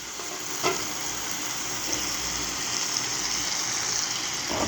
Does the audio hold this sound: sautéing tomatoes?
yes